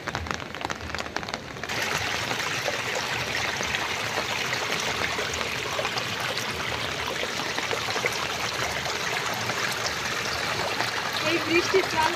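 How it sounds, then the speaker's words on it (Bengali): Rainwater pours out through a channel in the Sundarbans during rain, a steady dense rushing and splashing of water with rainfall patter throughout, fairly close and continuous. "বৃষ্টির জল বেরোচ্ছে ঝোড়া দিয়ে"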